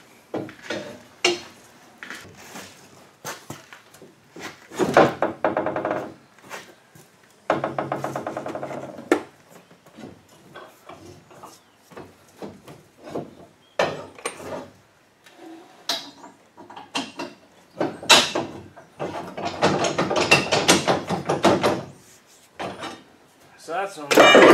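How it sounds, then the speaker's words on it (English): Metal clunks, scrapes and knocks while a pry bar levers parts and bolts are fitted into a bolt-in roll cage inside a Mazda 3 hatchback for demolition derby, in irregular bursts between stretches of someone talking. "we're going to stick this tip of the pry bar in there and kind of pry this so it goes out this way"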